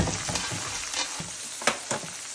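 Food cut in half sizzles in butter in a hot pan for a Southern Sunday supper, a steady close frying hiss broken by a couple of sharp pops near the end, with no talking.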